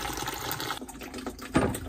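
Water from a leaking pipe pours into a tub or bucket in a plumbing job, a soft continuous trickle and splash with a slightly louder gush near the end, fairly close and alone.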